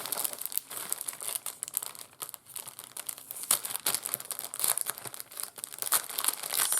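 Sheets of paper from a journal kit packet rustle and crinkle as they are handled up close, in irregular crisp bursts with no talking.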